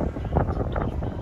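Strong gusty wind at an airport runway buffets the microphone in a continuous loud low roar with no break.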